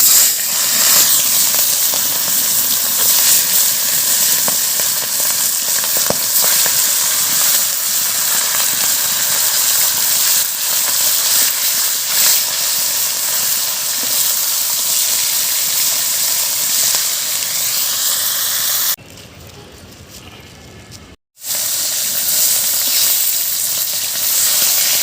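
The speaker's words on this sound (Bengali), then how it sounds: "তেল গরম হয়ে গেছে, এরপর আমি মাছগুলো ভেজে নেব।" Pomfret fish sizzling in hot mustard oil in a kadai, a steady loud crackling hiss that carries on without pause and briefly drops away near the end.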